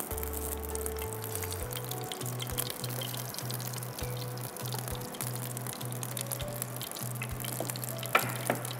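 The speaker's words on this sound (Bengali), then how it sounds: "এই টালা সেমাইটা একটু হালকা ভেজে নেব।" Thin vermicelli (semai) lightly frying in ghee gives a steady, soft sizzle with faint stirring scrapes over a low background hum, close and continuous throughout.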